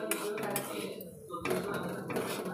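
A spoon scrapes and clinks against a pan as semiya is stirred and fried in a home kitchen, with steady metallic scraping throughout and a voice talking over it.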